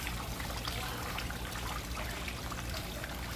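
Water poured steadily while cooking a callaloo bhagi rice cook-up, a constant close trickling stream that fills the whole moment without a break. No voices can be heard over it.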